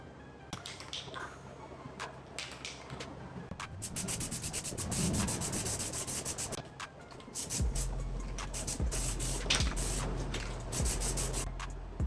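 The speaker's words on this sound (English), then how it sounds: "what I'm gonna use first is gonna be this bed liner spray, just to give it a little texture" Bursts of aerosol bed liner texture coating spraying hiss in repeated passes onto an amp rack, with short pauses and some scraping handling noise between them, close and fairly loud.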